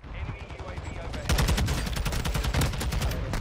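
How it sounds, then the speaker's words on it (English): Another team's gunfire in the video game Warzone 2.0 rattles in fast, sustained bursts that grow louder and denser partway through, with background game noise throughout. "they're another team shooting at me"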